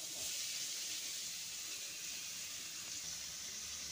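Onion and tomato hit hot oil already holding fried garlic and chili, giving a steady, soft, even sizzle with no break.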